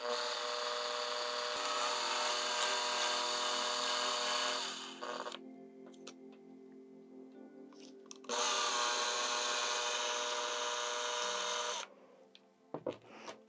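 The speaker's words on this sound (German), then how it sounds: "wir sind jetzt mit dem Bohren bis auf unsere Treibladung durch" A power drill whines steadily in two long bursts, drilling into a homemade sugar rocket motor, pausing briefly between them, with some clattering handling noise near the end.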